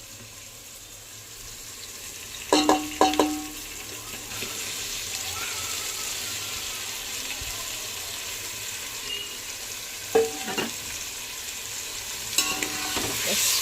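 Prawns being stirred into biryani masala in a pan, a steady sizzle with a few louder scraping strokes early on and near the end, plus a brief spoken word.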